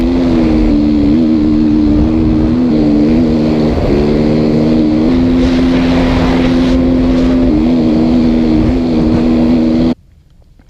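A 2016 KTM 350 EXC-F four-stroke dirt bike engine revs hard and steadily while riding, its loud buzzing drone rising and falling with throttle changes for about ten seconds before cutting off abruptly.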